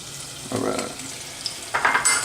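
Onions, celery and garlic hit hot melted butter with a bright sizzle that swells, eases off, then rises again as the vegetables are stirred, close and steady with no talking.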